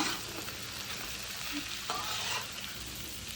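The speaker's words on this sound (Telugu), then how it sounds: "చిన్నగా కట్ చేసి పెట్టుకున్న దొండకాయ ముక్కల్ని ఆయిల్లో బాగా ఫ్రై చేయాలి" Small cut pieces of ivy gourd frying in oil in a pan, a quiet even sizzle with an occasional soft scrape of stirring, no voices present.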